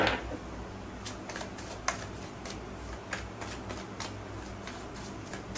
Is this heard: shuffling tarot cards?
yes